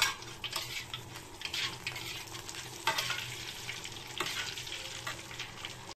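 Dry red chili, whole cumin seeds and a bay leaf sizzle in hot oil for a veg dalia, a steady crackling fry broken by bursts of louder spitting and a few stirring scrapes.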